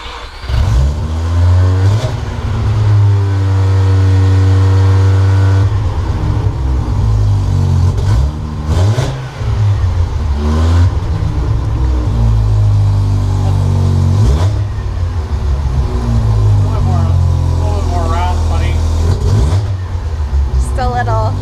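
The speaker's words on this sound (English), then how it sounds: "firing this thing up first time since back from drifting" A budget drift car's engine fires up and revs repeatedly, loud and close, with rising and falling throttle blips over a rumbling idle, and someone talking between the revs.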